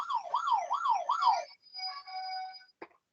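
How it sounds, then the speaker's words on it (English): An electronic quiz buzzer sounds a warbling, siren-like tone that sweeps up and down several times, followed by a short steady beep and a brief click. "I can tell the buzzers are both working successfully"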